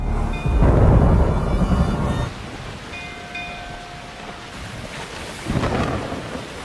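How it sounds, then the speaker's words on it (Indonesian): Heavy thunder rumbles in two loud rolls over steady pouring rain, the storm sounding close and continuous. "Malam itu petir membelah langit, perahu mereka menantang ombak ganas."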